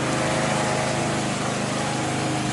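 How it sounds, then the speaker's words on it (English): A neighbour's lawnmower engine runs steadily and loudly nearby, a constant buzzing drone with no pauses or changes in pitch. "my neighbour started his bloody lawnmower up"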